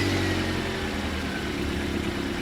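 A car engine runs steadily and loudly throughout, a continuous low rumbling drone with a slight rise like light revving, with no voices over it.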